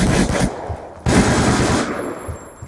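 Automatic gunfire in Call of Duty Black Ops 2 on the Nuketown 2025 map, loud rapid bursts filling the whole stretch with a short gap near the middle, no talking over it.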